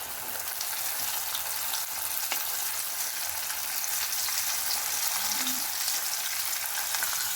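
Chicken wings and ribs sizzle and crackle in a hot frying pan, a dense, steady spitting hiss that carries on evenly from start to finish without talk.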